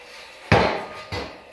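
A steel saw blade being handled for knife-making gives two sharp metallic clanks, the first louder, the second lighter about half a second later, each ringing briefly.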